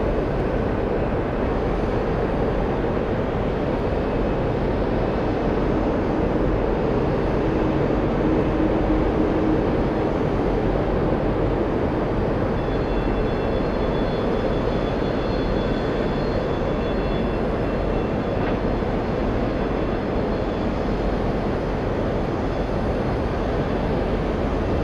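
Aircraft taxiing and crossing a runway at JFK airport, heard as a loud, continuous broadband jet engine roar that holds steady throughout, with no voices.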